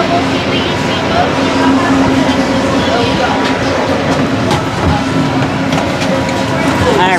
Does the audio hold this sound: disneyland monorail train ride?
yes